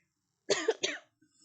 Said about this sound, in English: don't be surprised if you hear coughing throughout this chapter